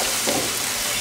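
Hot chicken or turkey broth sizzles in a gravy pan as the bottom is scraped down while deglazing, a dense continuous hiss and bubbling with faint scraping, close and loud, no talk.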